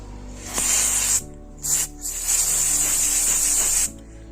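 Aerosol cleaning spray hissing in several bursts onto a Harman Kardon AVR-151 receiver, a long spray, a short one, then a sustained spray, close and loud with no talking.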